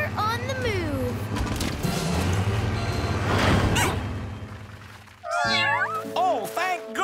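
Cartoon farm cats meow repeatedly, close and loud, with rising and falling calls; a rumble of rolling boulders or commotion fills the middle, then the meows return clearly near the end.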